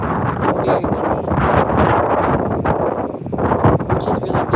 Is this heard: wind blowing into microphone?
yes